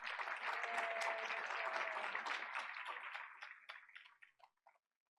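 At a school board meeting, an audience gives a round of applause: a full, steady clatter of many hands that thins after about three seconds into a few scattered final claps before fading to silence.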